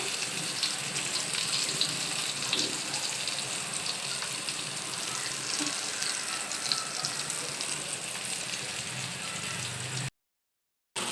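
Round eggplant slices sizzle and fry steadily in a pan, a continuous close crackling hiss that runs without talk before cutting off abruptly near the end.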